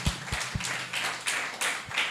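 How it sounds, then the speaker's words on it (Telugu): A church congregation at a Sunday service claps hands loudly in a few sharp, uneven bursts spread across a couple of seconds. "చప్పట్లు కొట్టండి గట్టిగా ఒకసారి."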